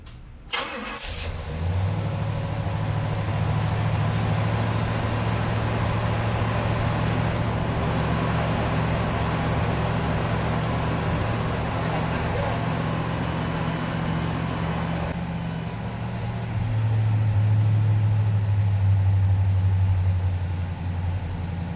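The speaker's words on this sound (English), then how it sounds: "I really want to see how this thing runs and make sure we got no fuel leaks, so I'm going to fire it up right now." A Pontiac GTO with a newly upgraded carburetor cranks and fires up, then settles into a loud, steady rumbling idle with a brief rise in revs near the end, without talk.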